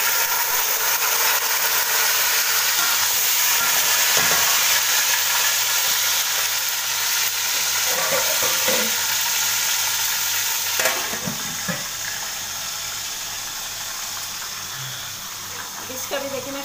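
Tomatoes dropped onto golden fried onions in a hot pan give a steady, loud sizzle and hiss, with occasional stirring scrapes, close by and almost unbroken throughout.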